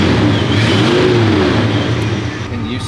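Trans Am engine revving from inside the car, a loud, steady mid-low roar with rising and falling pitch that fills the whole clip.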